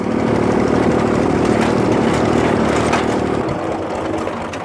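A small 1968 Renault Super 7D tractor engine runs steadily while driving on a narrow country road, a loud continuous diesel drone that eases slightly near the end.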